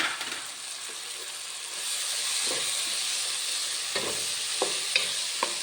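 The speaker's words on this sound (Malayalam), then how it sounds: "ഇതും അതുപോലെ നല്ല പച്ചമണം മാറുന്നവരെ നല്ലപോലെ വഴറ്റി കൊടുക്കാം." Crushed ginger, green chili and garlic sauté in a hot pan, producing a continuous close hiss and sizzle with occasional light clicks of a spoon against the pan.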